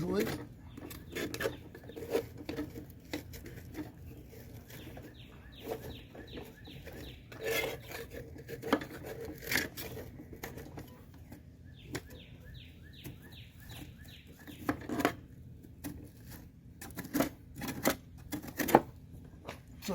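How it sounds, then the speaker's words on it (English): Old caked-on grass clippings are scraped off a Honda lawn mower deck in repeated rough strokes, steady and fairly close, while birds chirp faintly in the background. "We'll come on back when the scraping's done."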